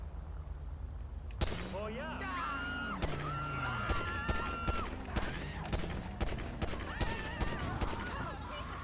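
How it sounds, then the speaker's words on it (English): Rapid bursts of gunfire in GTA V Online, dense crackling volleys and sharp shots repeating over several seconds with game sounds around them, while a person talks over the action. "Figured I'd shoot a couple bullets"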